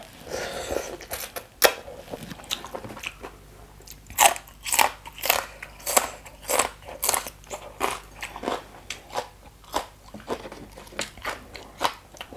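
Crunchy Thai papaya salad being bitten and chewed up close, a steady series of loud crisp crunches at a regular rhythm, with no talk over them.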